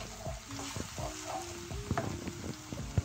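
Two large onions frying in a karahi pan while being browned, a soft continuous sizzle broken by stirring scrapes and occasional spoon clatters, close and fairly quiet.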